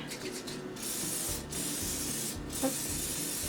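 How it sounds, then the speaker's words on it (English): Short hissing bursts of non-stick cooking spray coat the inside of a bread dough bowl, three or four spurts with small gaps between them, close and fairly quiet. "I'm using non-stick cooking spray, and I'm just gonna lift up the dough and I'm gonna spray inside the bowl all over"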